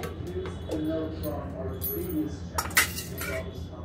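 Dal with tomato being served onto a plate at home, with soft clinks of a serving spoon against dishes and a brief louder clatter, under quiet background sound.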